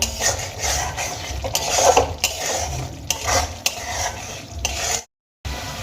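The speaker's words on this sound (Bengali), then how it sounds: "এবার আমি মশলাটা আর কিছুক্ষণ কষিয়ে নেব।" Mustard spice paste with softened tomatoes, for a shorshe bata fish curry, is stirred and fried in a pan. Steady scraping and sizzling continue throughout, close and fairly loud, with one brief silence near the end.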